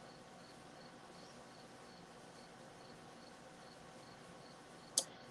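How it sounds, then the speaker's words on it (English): Crickets chirp steadily outdoors beside an unfinished shed, a faint continuous insect trill filling the background with no talk, broken by one brief sharp click near the end. "I hear lots of crickets."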